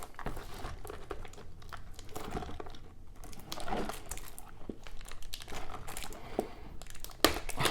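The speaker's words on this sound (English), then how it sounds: "let's get into ripping these open" Cardboard packaging of an O-Pee-Chee Platinum 2021-22 hockey card box being ripped open, a steady run of close crinkling and tearing with a few sharper snaps near the end.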